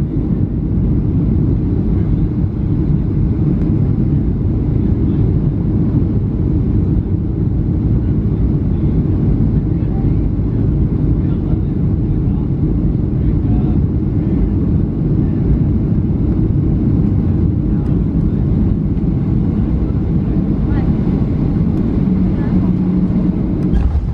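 Steady, loud airliner engine drone with wind rush on final approach to runway 28 at Wrangell Airport in Alaska, low and continuous throughout with no pauses, heard from inside the cabin.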